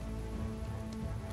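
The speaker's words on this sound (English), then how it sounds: "It's now raining." Steady rain hiss in the video game Kingdom Come: Deliverance, a dense wash of falling drops with a low rumbling undertone, continuous and moderately loud throughout.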